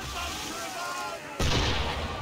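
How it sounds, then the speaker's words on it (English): A distant gunshot booms across a steady wash of ambient noise in Assassin's Creed 3, a single loud crack mid-scene with no other sounds around it. "Why is he shooting at us?"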